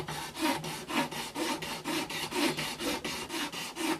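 Soft, even rasping strokes of abrasive across a rosewood fretboard on a Hofner Congress guitar neck, close up and steady, about two light passes per second with no talk.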